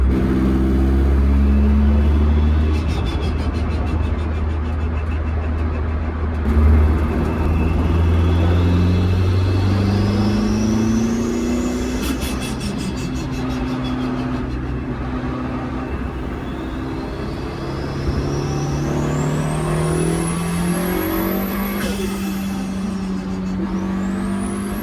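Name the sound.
1.8T swapped MR2 engine with custom intake airbox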